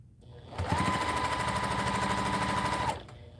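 A sewing machine stitches nested seams in one steady, close run of rapid needle chatter with a whining motor, starting and stopping cleanly.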